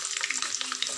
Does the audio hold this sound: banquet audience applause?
no